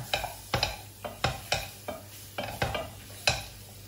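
Turkey hearts browning over high heat in a pan, stirred in about eight sharp scraping strokes spaced roughly half a second apart over a low constant sizzle.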